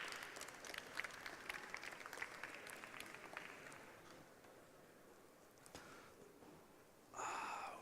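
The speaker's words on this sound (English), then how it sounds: "Can we have a round of applause for him" Audience applause at a literature festival held at the British Library, greeting a magician as he comes up on stage. Dense clapping is loud at first, then slowly thins and fades, and a fresh burst swells again near the end.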